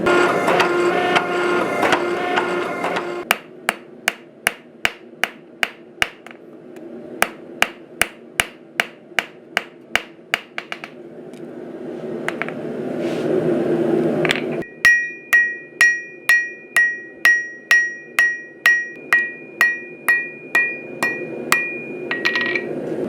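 Hammer blows on hot mild steel being forged into a boot knife ring out in steady, evenly spaced runs of sharp metallic strikes, loud and close, broken by pauses of background roar and a few stray clanks.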